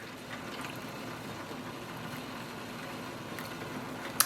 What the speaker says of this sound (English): I'm trying to make an effort to pour it more into the water